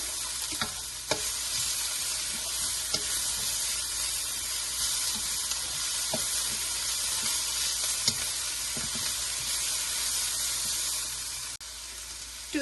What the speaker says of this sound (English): And just saute that for just 30 seconds more,